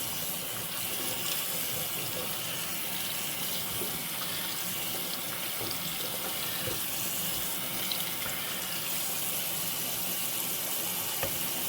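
Warm tap water runs steadily over a doll's hair to rinse out conditioner. A continuous, close, hissing splash keeps up without a break, and no voices are heard.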